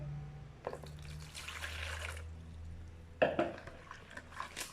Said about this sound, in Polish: Dolewamy wody